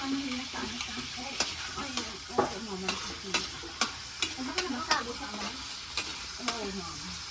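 Garlic and ginger sautéing in a pan for chicken tinola, a continuous close sizzle broken by regular scraping stirs and clinks of a utensil against the pan.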